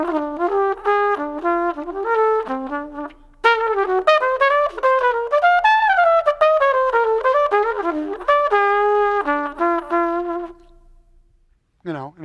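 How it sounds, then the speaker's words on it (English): A flugelhorn plays a flowing melodic phrase in a mellow, dark tone, notes moving smoothly up and down with a few held pitches, heard solo and close. "So a flugelhorn sounds something like this."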